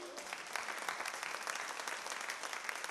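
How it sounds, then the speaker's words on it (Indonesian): A church congregation applauds for Jesus during a bilingual Mandarin and Indonesian sermon, a dense, steady wash of many hands clapping at once, sustained and even throughout without a break. "掌声归给主耶稣"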